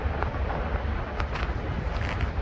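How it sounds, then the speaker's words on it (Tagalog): Strong wind buffets the microphone in a continuous, gusty rush, loud and close, with no voices over it. "Malakas yung hangin."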